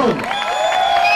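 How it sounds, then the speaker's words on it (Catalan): A brief burst of cheering and clapping rises from a crowd of secondary school students at a music gathering in Mallorca, applauding the boys amid scattered whoops and high calls. "un aplaudiment als xics, que són els campions"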